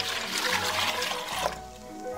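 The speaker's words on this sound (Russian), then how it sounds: "Добавить воду," Water poured into a mix of grated household laundry soap and washing soda for a 1955 Soviet EAYa-3 washing machine, a steady close splashing pour that eases into a quieter trickle near the end.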